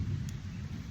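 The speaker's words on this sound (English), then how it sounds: "sorry for the thunder" Thunder rolls as a short, low rumble with a slightly stronger swell at the start, heavy and muffled without any sharp crack, and no one speaks.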